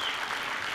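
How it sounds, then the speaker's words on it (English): Large conference audience cheering and applauding continuously, a dense, steady wash of clapping and shouts filling the hall with no pause. "Yeah, you're cheering for the founders, not for me."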